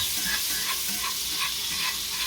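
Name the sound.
butter melting and sizzling in a pan for a roux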